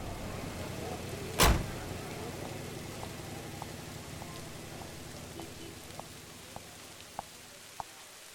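Rain falls outside in a steady, soft hiss, with one brief sharp burst early on and faint scattered ticks of drops later.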